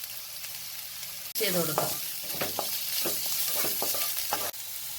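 Vegetables with spring onion sautéing and being stirred in a pan for chicken soup, a steady loud sizzle with scraping stir strokes, while a person speaks briefly over it.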